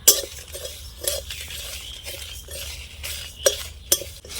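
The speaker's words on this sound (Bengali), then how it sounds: "মশলাগুলো এখন ভালোভাবে ভেজে নেব" Whole spices, fennel seeds and panch phoron, stirred in a hot pan, a spoon scraping and clinking against the metal in irregular strokes over a faint sizzle, close and without talk.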